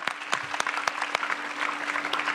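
An audience claps steadily to welcome a regional chair to the stage at a public gathering, a dense, even patter of many hands with a faint steady hum underneath.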